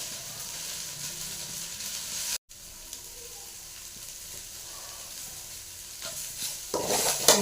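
Drumstick leaves are stirred into a hot tempering in a pan. A steady close sizzle carries on with soft scraping strokes, briefly cut off, then rises into louder frying and stirring near the end, with no voices.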